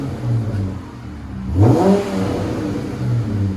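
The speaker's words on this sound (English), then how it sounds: "Rear muffler delete. If you don't want it too loud, you just want enough, that's what it sounds like." A Dodge Challenger 3.6L V6 with its rear muffler deleted idles with a low burble, then gives one quick rev that rises and drops back to idle, heard up close.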